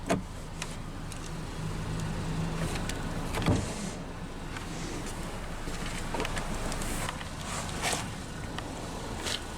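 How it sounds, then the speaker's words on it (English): The one-touch automatic driver's power window of a 2019 Hyundai Tucson SE hums as it lowers, a faint motor whir inside the cabin amid soft clicks and background noise. "now we'll go ahead and roll down the driver's window. The driver's window is one touch automatic down."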